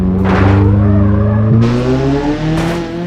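A MAN truck hauling a 40-ton trailer in BeamNG.drive is thrown into a handbrake turn: a steady engine drone with harsh bursts of tire scrub and skidding, loud and close, with no talking.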